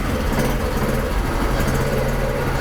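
A Honda C90 motorcycle fitted with a Chinese 110cc engine runs in neutral with a little choke, a steady, fairly quiet buzzing idle that holds even throughout.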